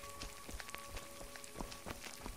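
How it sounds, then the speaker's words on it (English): Steady, soft rain falls in the Skyrim Falskaar game world, a faint continuous patter with scattered drop impacts and no voices. "Beautiful rainy day."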